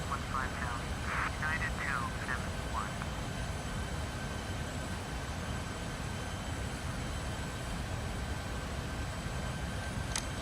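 United Boeing 737-800 climbing in Flight Simulator X, a steady loud engine roar and rushing air filling the whole stretch, with brief chirpy tones early on and a short click near the end.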